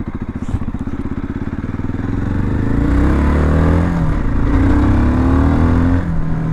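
A MASH X-Ride 650 motorcycle rides rough ground through a rut. Its single-cylinder engine thumps steadily and loudly, close to the listener, and the load rises and holds strong partway through, with some knocks and clatter.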